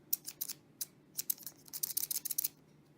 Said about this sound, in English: I'm doing a mix of rubbing it with my scissors